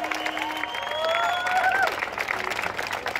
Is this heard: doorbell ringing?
no